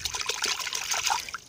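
Freshly cut piece of sedge (tiririca) dipped into water, giving a steady close trickle and light splashing that runs throughout with no talk.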